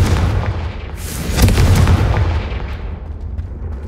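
A Confringo fire spell blasts in the video game Hogwarts Legacy, a loud booming explosion with a crackling fiery rush that swells and slowly fades over a few seconds.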